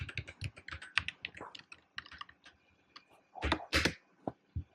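Rapid keystrokes on a computer keyboard while a Python command is entered, uneven bursts of close clicks with a quick flurry near the end, no voices.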